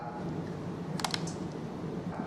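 An SC fiber optic connector pushed into its port on real equipment, its key aligned with the slot, giving a brief pair of sharp clicks as it seats, close and clear above a steady low background.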